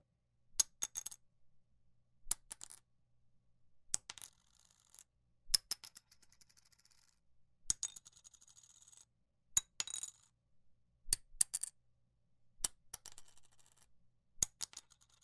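Mandolin triangle picks dropped one at a time onto a hard surface, giving about ten sharp, separate clicks with brief rattles spaced a second or so apart, with near silence between them.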